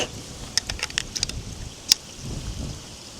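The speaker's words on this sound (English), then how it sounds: "It's very windy, you legends." Strong wind blows outdoors by a garden pond as low, rumbling gusts buffet the microphone, with a few sharp clicks scattered through the quiet, steady rush.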